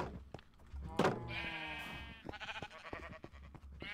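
A sheep in Minecraft bleats once, a wavering nasal cry heard close amid soft game sounds and clicks.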